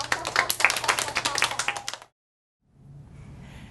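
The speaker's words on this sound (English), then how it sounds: "Give yourself a clap." Children clap together in a classroom, a dense burst of overlapping hand claps lasting about two seconds that stops abruptly, followed by quiet room noise.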